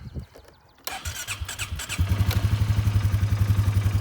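A 2018 Polaris 450 HO ATV started electrically: a brief starter crank, then the single-cylinder engine fires and settles into a close, loud, evenly pulsing idle, with no talking.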